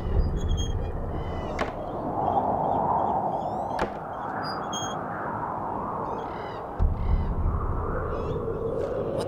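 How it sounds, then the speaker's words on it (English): A crow caws several times in Diablo, its harsh calls repeating against dark game ambience with occasional sharp hits and whooshes. "What the fuck is that? It's a crow?"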